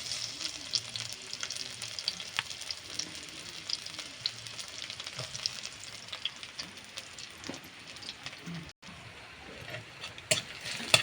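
Sliced onion frying in very hot oil in a pan, a continuous crackling sizzle with scattered sharp pops and occasional stirring, fairly quiet and close, with no talk.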